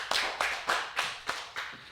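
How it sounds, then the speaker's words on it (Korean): A church congregation at a Korean Full Gospel Sunday service claps in a slow, even rhythm, about six distinct claps, fairly close and clear with no talk. "하나님께 영광의 박수 드리겠습니다."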